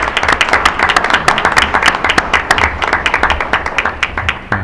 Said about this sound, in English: If we could get a round of applause for the board